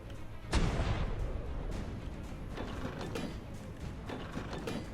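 A cannon fires once in the Ark video game, a sharp boom followed by mechanical clanking and ratcheting noises that carry on at moderate volume with no talking.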